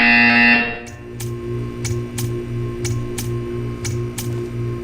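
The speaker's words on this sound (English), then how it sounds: "You will hear a buzzer." A repeated electronic buzzer from the video game Portal 2 sounds in a steady rhythm of about eight evenly spaced pulses over a constant hum, following a brief louder tone at the start.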